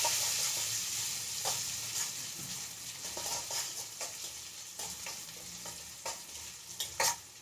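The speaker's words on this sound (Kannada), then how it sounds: "ಒಣಮೆಣಸಿನ್ಕಾಯಿ ಹಾಕೊಂಡು ಬೆಂದಿದೆ ಬದನೆಕಾಯಿ ಇಷ್ಟು ಫ್ರೈ ಆದರೆ ಸಾಕು" Eggplant fries with dried red chillies in a pan, a steady soft sizzle broken by repeated sharp scrapes and stirring knocks of a spatula against the pan.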